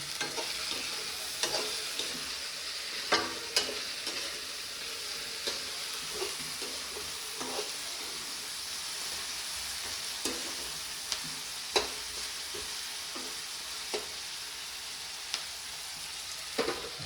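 Chicken fries in a pan with a steady, close sizzle after salt goes in, while a utensil stirs and scrapes it with scattered sharp clicks over the constant frying.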